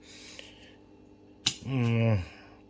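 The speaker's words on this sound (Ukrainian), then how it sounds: "Ложки вилки Мельхіор." A sharp metallic clink of cupronickel spoons and forks, followed by a ringing, wavering metal tone that fades after about half a second.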